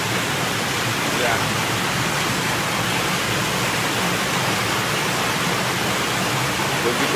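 Heavy rain and fast-rising floodwater rush steadily in Manado, a dense, unbroken roar that stays loud throughout with no clear breaks.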